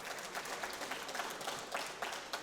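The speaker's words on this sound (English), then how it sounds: "Can we have a round of applause, please?" An audience at a People+ai fellowship graduation ceremony applauds, a steady wash of clapping from a crowd, moderately faint and continuous with no talk over it.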